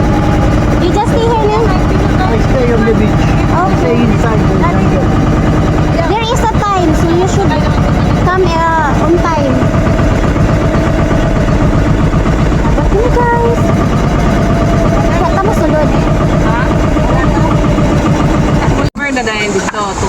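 A loud small boat engine drones steadily and close, with people talking over it and a brief cutout near the end.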